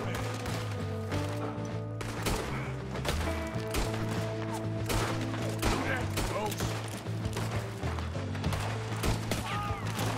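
Gunfire crackles in the video game Red Dead Redemption 2 as rapid shots and impacts ring out repeatedly over a dense musical and ambient game mix, continuing steadily throughout.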